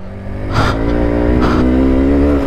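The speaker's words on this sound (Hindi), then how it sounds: "देखो फुल पावर दे रहा हूँ बाइक, फिर भी चल नहीं रहा अच्छे से" A motorcycle sunk in soft soil near Gurudongmar Lake in North Sikkim is revved at full power, its engine roaring loud and close in a steady drone with two sharp bursts of spinning effort.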